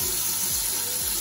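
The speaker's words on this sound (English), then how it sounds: "what I'm going to do is I'm going to put a water and fill it roughly to about" Tap water pours steadily into a traditional steamer being filled about a quarter full for steaming conch, a continuous close rushing stream with no talk.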